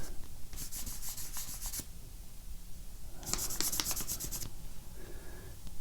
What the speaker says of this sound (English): let's see what happens if I rub with a finger